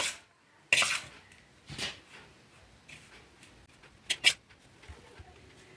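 A large metal kadhai is lifted out and set down while tilkut barfi is being made from sesame seeds. Several sharp metallic clanks and knocks come at irregular intervals against a quiet kitchen background.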